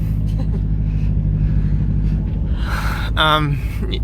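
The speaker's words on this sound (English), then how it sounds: "That's our special car." A car rolls slowly along a gravel driveway, its low, steady rumble continuous beneath a person talking.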